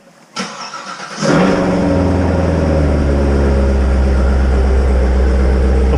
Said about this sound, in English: all right, let's do a cold start.